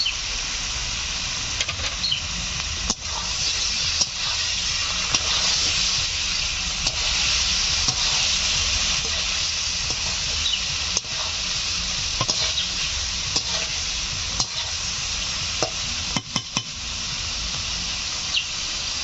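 Ginger and cumin paste frying with papaya in a village-style Bengali kitchen, a continuous sizzle and hiss broken by scattered clicks and scrapes of stirring.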